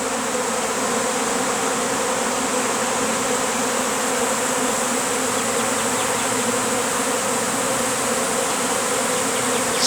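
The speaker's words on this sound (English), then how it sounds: "But if you look up, I think you can see all the bees in the sky." Dense, steady buzzing drone of a honeybee swarm pouring out of a hive box and filling the air overhead, loud and continuous with no pauses.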